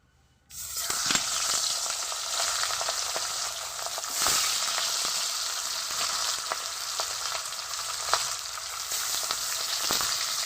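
Fish frying in hot oil in a wok, a loud dense sizzle that bursts in suddenly and holds steady, crackling with small pops and spatters throughout, close by with no voices.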